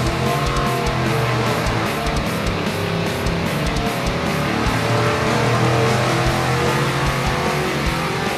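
World Products Warhawk 454 LS7 Chevy V8 engine running on a dyno, a loud, sustained roar with a dense low drone and rapid firing pulses, steady for the whole stretch with no talking.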